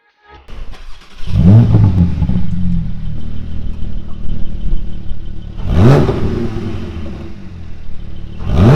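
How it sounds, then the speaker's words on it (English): A Porsche 718 with a 4.0 engine and aftermarket exhaust starts up with a loud bark and settles into a rumbling idle, then two sharp revs climb up and drop back, close by with no voices. "It has a nice little crackling sound once you start the car, and of course, it sounds amazing."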